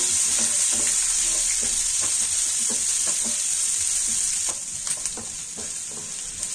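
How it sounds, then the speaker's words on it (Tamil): Onions sautéing in a pan for a carrot and beans stir-fry, giving a steady loud sizzle and hiss with faint scraping stirs throughout. "வெங்காயம் சேர்த்துட்டு நல்லா வதக்கிட்டுங்க."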